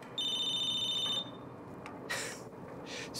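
A phone ringtone from the video game Battlefield Hardline: a steady electronic trill for about a second, then cut off and followed by quieter game ambience.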